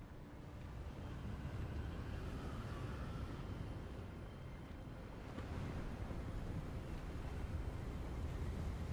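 Steady rushing wind while flying through the air in the video game Hogwarts Legacy, a broad continuous roar holding at an even level throughout with no talk.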